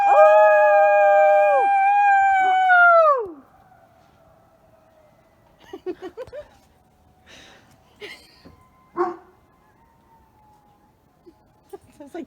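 Several animals in a small town of about 1,000 people howl together in a sustained chorus resembling coyotes, wavering rising tones for about three seconds that then break off, followed by faint scattered yips and distant noises.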